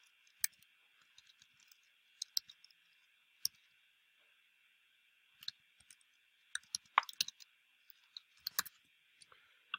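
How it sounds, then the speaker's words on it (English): Someone types a tracking number on a computer keyboard. Light, irregular key clicks come in small clusters, close but faint, over a steady background hum. "You have to actually type it in sometimes."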